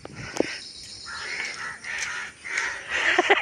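A crow caws outdoors, giving several harsh, fairly close calls in an uneven series, with faint insect chirring underneath.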